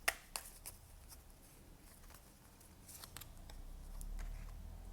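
Oracle cards being handled and shuffled during a tarot reading, with a few sharp snaps at the start followed by soft, steady riffling and sliding close by, with no talk.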